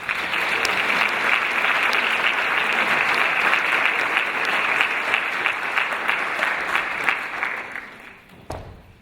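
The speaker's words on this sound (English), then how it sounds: "Join me in giving these organizations a round of applause" A school community viewing audience gives a steady, dense round of applause for the organizations that helped plan an Every 15 Minutes production, sustained for about eight seconds before tapering off.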